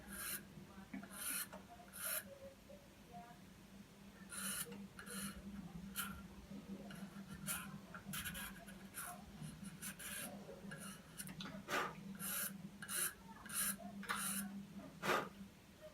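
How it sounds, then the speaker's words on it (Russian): An iPhone 6 part being scraped with a stationery blade, short repeated raspy strokes, close and fairly quiet, over a faint steady low hum. "Чуть-чуть придавливая это и шлифуем."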